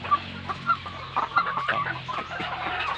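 A flock of ready-to-lay chickens, about 150 birds in a layer pen, clucks steadily and close by, with overlapping calls rising and falling and no talk.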